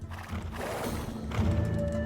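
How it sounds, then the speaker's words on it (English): Scythian horses in Age of Empires whinnying and stamping at close range, a neigh rising mid-clip over low thudding hoof and rumble sounds, with no talk. "Foul creatures, those Scythian horses, vicious as Cerberus and just as ugly."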